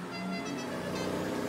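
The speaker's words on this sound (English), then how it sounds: "Honk my horn?" A tractor horn in the farming video game Farming Simulator sounds as a sustained, steady honk that holds for the whole short moment, loud and close over a faint engine bed.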